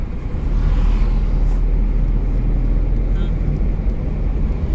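A car engine revs under steady road rumble during a driving lesson at a motor driving school, with the instructor talking over the continuous, loud drone.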